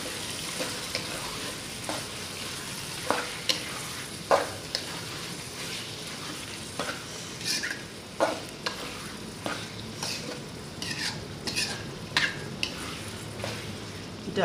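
Chicken pieces cooking in a pan while being stirred, a soft continuous sizzle under regular scraping and tapping strokes of a spatula, close and moderately quiet throughout.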